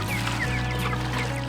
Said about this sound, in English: his wife Gay feeding the chickens